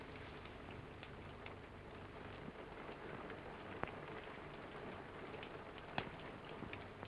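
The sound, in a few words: rain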